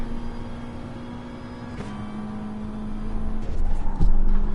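Gr.3 race car engines in GT Sport on the Dragon Trail circuit drone steadily at high revs, with a shift near the middle and the sound swelling louder toward the end as cars close in.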